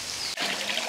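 Water is poured into a diesel motor pump, a short, close splashing gush that starts abruptly and streams steadily for under a second.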